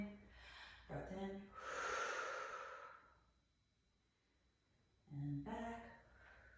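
A long, audible inhale taken during a guided glute exercise with the ribs held down, close and breathy, set between short voiced sounds before and after.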